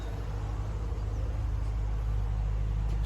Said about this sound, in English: that car's running. It's idling.